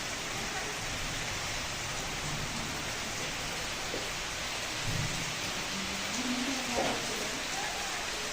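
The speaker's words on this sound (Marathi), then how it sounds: "पाऊस चालू झालाय" Steady rain falls outdoors as a constant broadband hiss throughout, with a few faint low thuds and distant voices under it.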